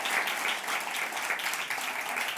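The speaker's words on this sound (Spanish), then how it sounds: "Denle un buen aplauso al Señor en ese sentido." A church congregation applauds together during a sermon, a dense, even burst of clapping close by that keeps going at steady strength.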